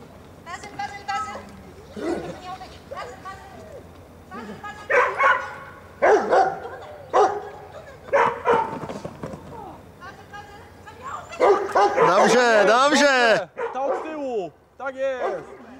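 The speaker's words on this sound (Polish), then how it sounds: "Kolejna grupa psów jedzie." Several dogs bark and yip in a sled-dog style setting, with short bursts scattered across the scene and a louder, dense run of excited barking and whining near the end, mixed with people talking nearby.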